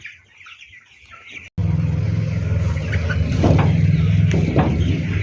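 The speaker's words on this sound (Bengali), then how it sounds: "দুই হাজার পাঁচশোটি ব্রয়লার পালন করতেছেন" Broiler chickens, about 2,500 raised on sand litter at a poultry farm, cluck in short bursts over a steady low drone that starts abruptly after a brief quiet moment.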